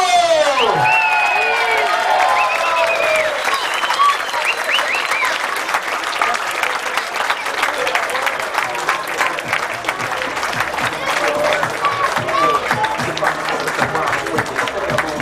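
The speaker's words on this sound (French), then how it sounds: "faites un tollé d'applaudissements pour le coach Pascal Thibault" Loud crowd applause after a match honours the coach, a dense sustained wash with whistles and cheers rising near the start, and shouts and whoops scattered throughout.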